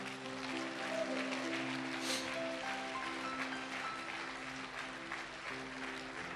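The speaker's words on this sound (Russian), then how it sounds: "Аплодисменты, друзья." Church congregation applauding, a soft, steady wash of many hands clapping at a distance with faint tonal hum behind it, lasting several seconds.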